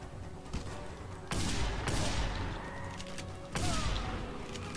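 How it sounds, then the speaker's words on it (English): Gunfire erupts in the video game Just Cause 2, with sharp bursts and a few heavy volleys cracking out over a constant background din, each loud blast trailing off into decaying rumble. "Who's shooting me?"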